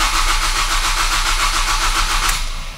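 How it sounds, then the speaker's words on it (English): A car engine cranks over continuously with the starter's rapid, even rhythmic chugging, close and loud, never catching, with the engine management getting no sync signal, then tapers off near the end. "So let's go ahead and crank the engine."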